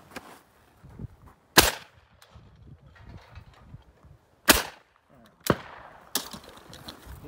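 Shotgun shots ring out at FITASC sporting clay targets on an outdoor parcours in Arizona, four sharp reports spaced a few seconds apart with faint quieter sounds between, fairly close.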